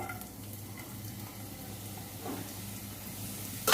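Chopped onion fries in mustard oil on the stove for beef liver bhuna, a faint, steady low sizzle with a soft swell midway and a small clatter at the end.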